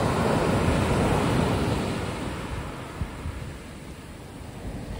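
Sea waves roll and break steadily on a UK sea-glass beach at Seaham, a broad continuous surf wash with gusty wind buffeting the microphone and a brief splash near the middle, no voices.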